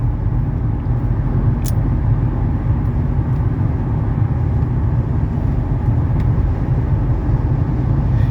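A 1991 Mercedes 300SE with a gasoline engine drives on the road, its engine and tire rumble a steady, close drone that runs unbroken throughout with no voices.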